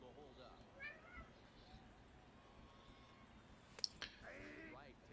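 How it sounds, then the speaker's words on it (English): A cat meows a few times, quiet and somewhat distant, with faint clicks and a low background hum. "Sorry if you guys can hear my cat like walking around meowing while I'm filming the video"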